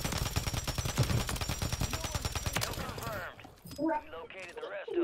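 Rapid automatic gunfire in the shooter Warzone, a dense burst of repeated shots that gives way partway through to voices talking over fainter game sounds.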